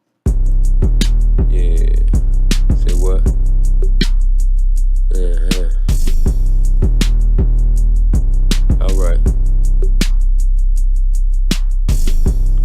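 Dense electronic drum beat made with an 808 and Fruity Drum Synth Live in FL Studio, with bright white-noise crash cymbal hits splashing across it, loud and busy, with brief spoken words over the top.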